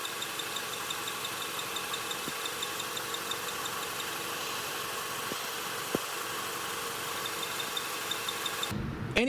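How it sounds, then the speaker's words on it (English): Idling engine of a 1998 Honda Accord after a manual swap, with a steady hum and a few sparse faint clicks from the clutch fork ball pivot, no talk. "I found out that the squeaking noise was coming from the ball pivot that the clutch fork sits on"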